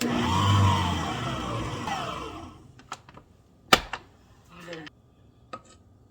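An electric mixer whirs through coffee cake batter of flour and cornstarch for about two seconds, then stops, followed by scattered clinks and light scraping against the bowl.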